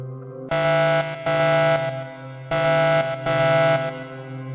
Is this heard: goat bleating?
no